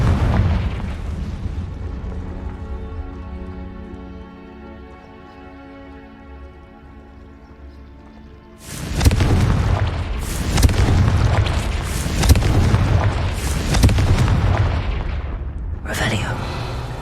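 Repeated Confringo spell blasts from the game Hogwarts Legacy, a sudden loud explosive burst followed by several rumbling booms in quick succession after a quieter stretch.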